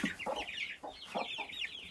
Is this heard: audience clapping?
no